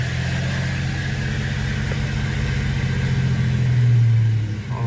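A 1998 Chevrolet S10 ZR2 4x4 engine runs at a steady low rumbling idle after an EGR valve repair, its tone swelling briefly near the end, close and continuous with no voices.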